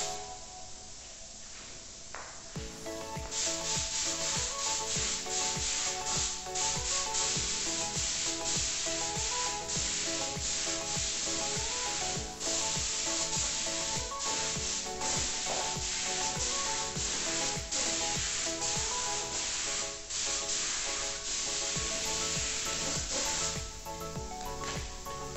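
Steady, continuous rubbing hiss of sanding across primer on the frame of a 1977 Monark circular-bar bicycle, close and unbroken for most of the stretch with no talking.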